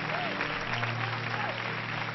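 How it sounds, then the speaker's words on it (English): Church audience clapping hands in thanks for a Christian television network, a steady wash of applause with faint voices and a low sustained tone underneath. "Somebody clap your hands for TBN."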